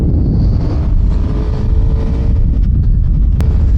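A Suzuki GSXR 750 motorcycle ridden slowly on soft tires, heard as a loud, steady low engine drone heavily mixed with wind rushing over the microphone.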